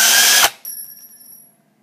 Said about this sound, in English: To remove a bit, put the drill in reverse, hold the chuck tight, and get ready to catch the bit.